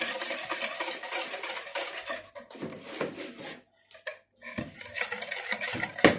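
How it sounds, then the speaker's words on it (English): A metal spoon folding flour into strawberry ripple cake batter in a bowl, giving steady close scraping and clinking against the bowl, briefly pausing near the middle before resuming, with no talk. "Using a metal spoon this time, but wooden spoon for this one if it's easier."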